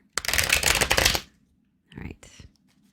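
A deck of tarot cards is riffled in a quick burst of crisp flapping, followed by a short second shuffle and a soft tap.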